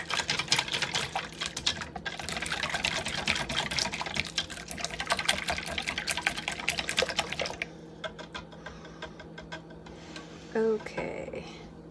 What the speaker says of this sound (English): so that's all whisked together